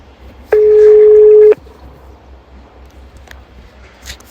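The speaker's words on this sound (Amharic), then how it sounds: "እየጠራ ነው።" A single steady telephone ringback tone sounds for about a second, loud and clear, followed by quiet line noise.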